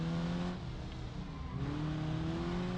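Car engine in BeamNG.drive holding a steady, strained high rev, droning continuously with slight pitch rises and dips, moderately loud and alone.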